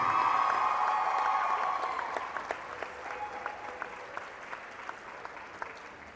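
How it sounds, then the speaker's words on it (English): Crowd applause for senior players at a high school varsity volleyball match in a gym, steady clapping with light cheering, loud at first then easing into sparser claps. "Let's have a nice round of applause for these great seniors."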